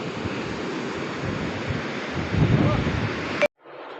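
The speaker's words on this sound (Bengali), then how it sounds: "একটু সমুদ্রের ধারে এসেছি। বেশ একটু সুন্দর হাওয়া দিচ্ছে।" Wind blows at a sea shore with waves washing in, a steady broadband rush that swells briefly before cutting off abruptly, then returns more faintly.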